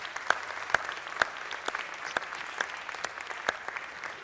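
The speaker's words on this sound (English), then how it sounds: "I'd like to ask for a round of applause for the cultural institution of St. Elmo's Village." At a Los Angeles city council meeting, a small gathering gives light, scattered applause: distinct individual claps ring out sparsely and fairly quietly in a large room.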